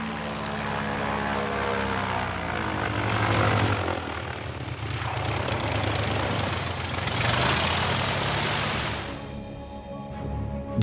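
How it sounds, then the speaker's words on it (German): A propeller airplane lands on an airstrip in front of Schönbrunn, its engine droning loud and steady with rising and falling pitch, close by, with no talking. "Und so landet man auf diesem Airstrip vor Schönbrunn."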